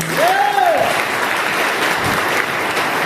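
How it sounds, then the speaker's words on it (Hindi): Audience applause at an RCM business seminar in Balrampur, a steady dense wash of clapping from a crowd filling the whole stretch, with a brief whistle-like tone near the start. "तो आप लोगों से चाहता हूँ कि आप मैडम के लिए ताली बजाएंगे।"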